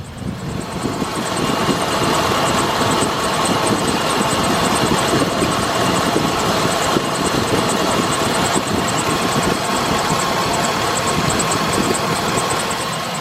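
A 2007 Chevy Express 3500 van engine idles continuously at close range, an even rumble with a faint high whine on top, no lifter tick and no voices.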